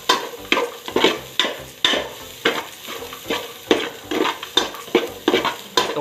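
Garlic frying and being stirred in a pan for Ilocano sinanglaw, a steady sizzle broken by about a dozen rhythmic scraping strokes of a utensil against the pan, close and clear with no talking.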